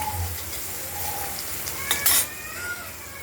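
Potatoes fry with turmeric in a pan, making a soft, steady sizzle over a short stretch, with a brief louder burst of spatter and stirring near the middle.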